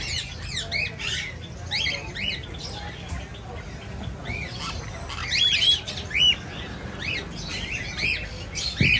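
Exotic pet birds kept at a pet dealer in Islamabad squawk and chirp repeatedly, a busy chorus of sharp, high calls, some near and loud, over a low background murmur of voices.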